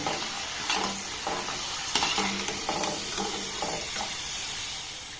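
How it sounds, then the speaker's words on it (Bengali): Crunchy katkati sweets fry in hot oil, with a constant bubbling sizzle and repeated clinks and scrapes of a utensil against the pan, close and fairly loud. "আর একইভাবে সবগুলোকে আমি ভেজে নেব"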